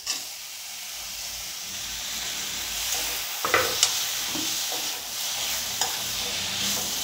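Tomatoes softening in a pan over a low flame for a hotel-style white vegetable kurma, with a steady sizzle and hiss and occasional sharper pops and stirring scrapes, close and continuous, no talking.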